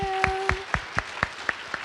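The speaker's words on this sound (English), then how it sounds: "Please give her a round of applause." Audience at a school cultural day event clapping in an even rhythm, distinct claps about four per second, close and moderately loud with a short held tone at the start.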